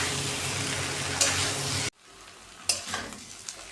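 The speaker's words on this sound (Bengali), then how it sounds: "ধনেপাতা দিয়ে ভালো করে এটাকে কষিয়ে নেবো" Dum aloo with coriander leaves being stir-fried in a pan, a loud steady sizzle that cuts off abruptly, then quieter scraping stirs with a few sharp clinks of a utensil against the pan.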